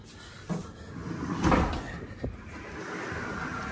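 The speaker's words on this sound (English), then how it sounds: "It has a barn style door," A barn-style sliding door in a hotel junior suite rolls and bumps along its track, a few close knocks and a rumbling glide over a couple of seconds, with no voices.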